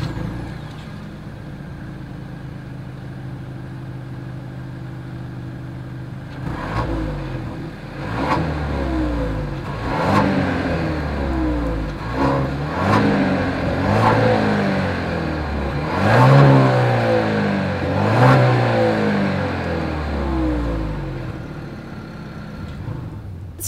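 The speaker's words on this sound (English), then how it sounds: "As always, here is that exhaust clip." Exhaust of a 2021 Genesis GV80 midsize luxury SUV, idling steadily, then revving repeatedly in a series of short, loud throttle blips with deep rumbling swells and drops, heard alone without talk.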